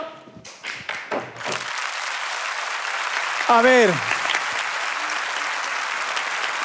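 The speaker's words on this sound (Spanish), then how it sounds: "Un aplauso." A studio audience at a televised talent-show gala breaks into steady, dense applause that holds at an even level, opening with brief speech and a quick sung or shouted phrase rising over the clapping.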